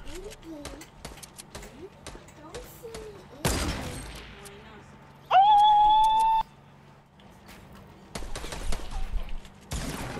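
Gunfire in the video game Fortnite, with rapid bursts of shots and sharp reports in clusters against a game soundscape, plus a long electronic tone partway through, while players talk over it.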